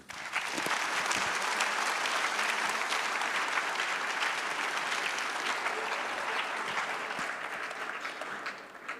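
Sustained applause from a large crowd at a drone workshop, steady and dense clapping throughout, with no talking over it.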